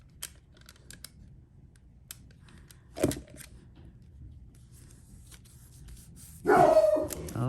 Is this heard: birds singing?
no